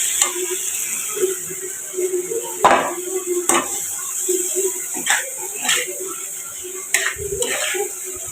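A Bengali curry sautéing in a pan: a low steady sizzle broken by a handful of scraping stirs, with talking nearby at times.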